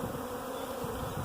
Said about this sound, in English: there's still a decent amount, but the first video I took, it was a heavy amount in the air.